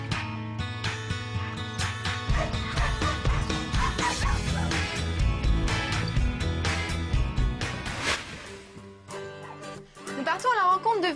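Several dogs of different breeds bark and yip at a dog breeding kennel, with repeated bursts under a voice talking and background music.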